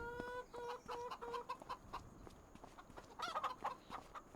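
Chickens cluck in a Farming Simulator 25 henhouse, a flock of 500 birds, sounding as a run of short repeated clucks that fades and then returns in a second burst with no talking.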